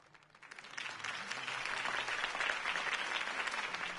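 A video game crowd bursts into sustained applause, the clapping swelling quickly and holding steady as a dense wash of many hands.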